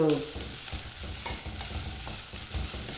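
Chopped banana stem sautéing and being stirred in a pan for chutney, with a steady broadband sizzle and repeated scraping strokes of a spatula at a regular rhythm, close and fairly loud, with no talking.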